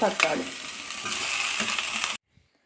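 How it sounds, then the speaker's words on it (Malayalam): Onion and tomato sautéed in a pan for a simple tomato curry, a steady sizzle with scraping stir noises for about two seconds that cuts off abruptly into near silence. "തക്കാളി ചേർത്തിട്ടും 1 മിനിറ്റ് നന്നായിട്ടൊന്ന് വഴറ്റിയെടുക്കാം."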